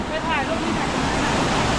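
A waterfall on a mountain trip rushes in a steady, dense roar close by, with faint voices briefly audible over the water.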